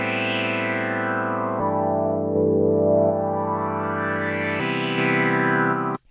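A Poizone synth set to two unison voices plays a sustained chord progression, the bright tone sweeping slowly down and back up, with four long chord changes and a sudden cutoff at the end, close and without talk.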